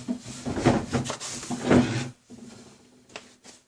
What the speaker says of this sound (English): it's nice to be able to slam my door and not worry about damaging the wall